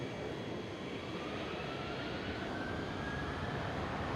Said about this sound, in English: took off from runway 18 left, and there goes the A330-300